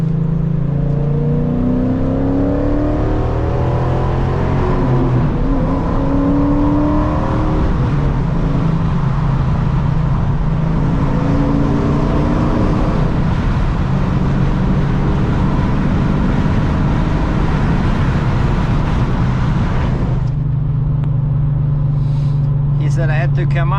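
Chrysler car with BBK long tube headers idling and revving, a deep steady exhaust rumble with rising throttle blips, loud and close throughout, with a person talking over it.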